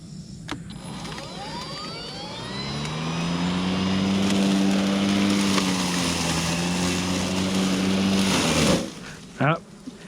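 A Kobalt 20-inch electric lawn mower cuts through heavy, thick grass with a steady whirring drone that rises and bogs slightly under load, close and loud, with a little talk near the start and end.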